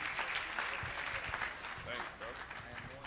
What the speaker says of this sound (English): So let's give a round of applause for my guy,